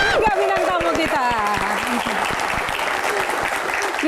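Audience applause for three guest panelists at an Indonesian Q&A panel discussion, steady dense clapping filling the room with a voice speaking over it.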